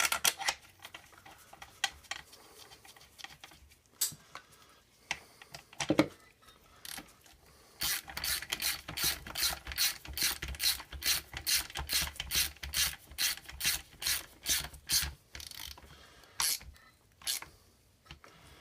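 Ratchet wrench tightening a long bolt on a Hurth HWB-10 marine transmission during reassembly, giving a close run of rapid, evenly spaced clicking strokes after a few scattered taps and handling noises, with no talking.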